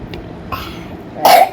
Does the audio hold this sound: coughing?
yes